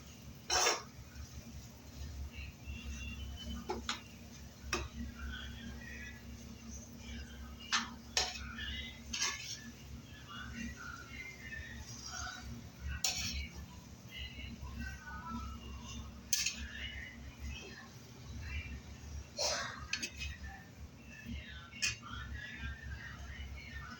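A spoon scrapes and taps around a bowl while mixing batata vada potato filling with salt and coriander, irregular clinks and knocks spread through a long stretch over a soft room hum, fairly quiet and close.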